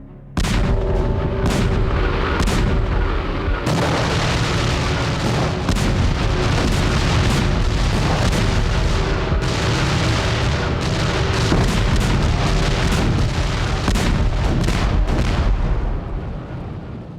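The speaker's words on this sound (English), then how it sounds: "Over 4 months, Prussian artillery bombarded Paris." Prussian artillery bombarding Paris during the 1871 siege: a continuous, dense barrage of heavy booms and blasts, loud and sustained throughout with no voices.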